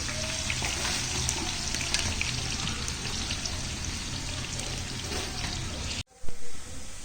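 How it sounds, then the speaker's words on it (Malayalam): Breadfruit chips deep-frying in hot oil give a steady, dense sizzle that holds for about six seconds, then cuts out briefly before a short louder swell. "ഇനിയിപ്പോൾ ഈ ഒരു രീതിയിൽ ഞാൻ എല്ലാം ഫ്രൈ ചെയ്തെടുക്കട്ടെ"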